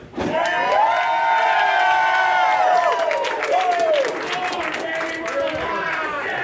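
Loud crowd at a summer festival cheering, whooping and shouting together, a dense sustained roar of many voices lasting throughout and easing slightly near the end.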